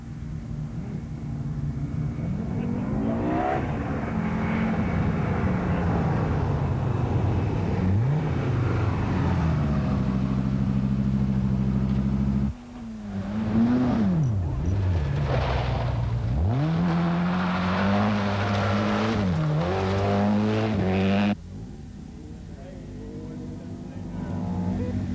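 Rally cars from a 1986 forest stage, led by a four-wheel-drive Audi Quattro, roar loudly and close through tight corners among trees, engines revving up and down with gear changes before cutting off abruptly and returning.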